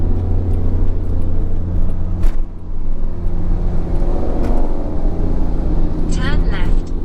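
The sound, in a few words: car driving on a highway in Jamaica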